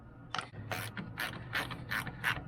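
A 1/4-inch ratchet fitted with a 10mm socket turning bolts on a Ford F-150 headlight, several quick close ratcheting clicks in short bursts with brief pauses between them, no voices.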